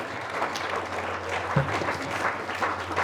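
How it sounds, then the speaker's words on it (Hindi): An audience at an institute event gives loud applause before a santoor and tabla performance, a thick, continuous crackle of many hands clapping with a low hum beneath it. "एक बार जोरदार तालियां।"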